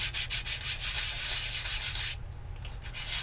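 Balsa edge of a Guillow P-47D model airplane part being sanded by hand, with steady rhythmic scratchy strokes close up that pause briefly near the end before resuming.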